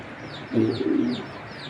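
A racer pigeon of foreign bloodline coos once, a short low warble lasting about half a second, close and fairly clear over faint background noise.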